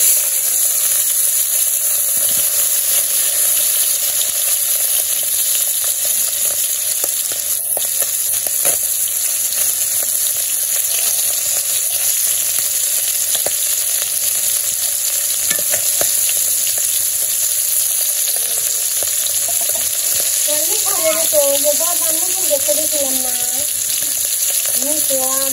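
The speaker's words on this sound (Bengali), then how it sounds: "আমার তেল গরম হয়ে গেছে, মাছগুলো দিয়ে দিই।" Fish fried in hot oil in a kadai in a village kitchen, a steady close sizzle with a bright hiss running throughout and some stirring, with a short tonal squeal near the end.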